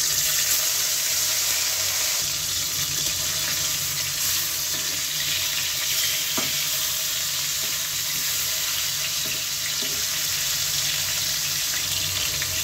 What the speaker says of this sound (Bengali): माछगुलिके हलुद आर नुन मेखे रेखेछि, एखन एकटा एकटा करे एकटु एकटु भेजे नेब।